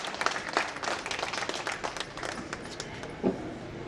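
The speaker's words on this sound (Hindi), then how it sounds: "एक बार तालियां बजाइए मन के साथ।" A crowd applauds at a Hindi poetry recital with a burst of sharp, scattered handclaps that stays fairly even, then thins out, with one last louder clap near the end.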